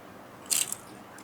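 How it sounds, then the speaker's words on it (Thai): A single short, crisp crunch of a crispy fried wonton being bitten, close up, with a quick crackle trailing after, in an otherwise quiet room. "คิดว่ากรอบจนเสียง เสียงกรอบน่าจะ น่าจะเข้าไมแบบบ้าง"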